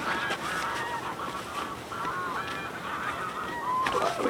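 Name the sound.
geese honking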